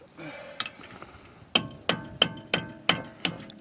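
Metal strikes ring out on a brake rotor with a fork laid across it during an E46 BMW xi wheel bearing replacement: six sharp, evenly spaced clanging hits after a few quieter clinks, close by.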